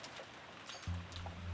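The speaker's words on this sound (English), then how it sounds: "We can't do anything except pass the time listening to the sound of the rain until tomorrow morning." Steady soft rain patters with scattered drops in a quiet room scene of the visual novel Umineko When They Cry, faint and continuous, with a low hum entering partway.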